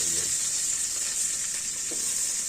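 Onion, garlic and chili sizzle and fry steadily in a hot pan, a constant close hiss with a few faint stirring scrapes, no talking.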